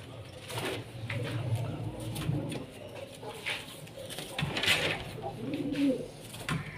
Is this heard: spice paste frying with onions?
no